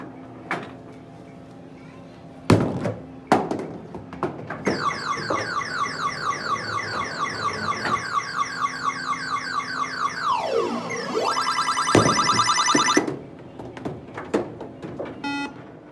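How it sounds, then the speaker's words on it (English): Busy indoor vintage 1980s arcade in a mall: bright electronic chirps, warbling synthetic tones and a falling swoop over clattering knocks and thuds, with a murmur of people in the background. "take a listen to a vintage 1980s arcade"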